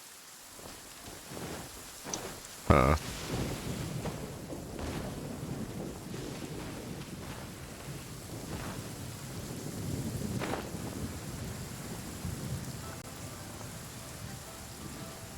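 Steady rainfall in Genshin Impact patters continuously at moderate volume, broken once by a sharp knock near the start, with a brief muttered exclamation from a player.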